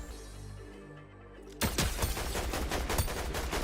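Rapid Fortnite gunfire during a pro esports match, a loud burst of close, repeated shots cracking in quick succession after a quiet lead-in, with no talk.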